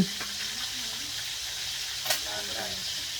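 Chicken feet sizzle and crackle in deep hot oil, a steady close frying hiss with a brief louder pop partway through.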